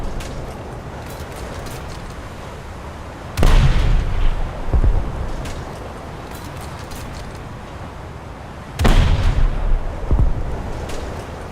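Naval guns firing in the War Thunder game: two heavy booming blasts several seconds apart, each rumbling and trailing off, over a constant low battle noise.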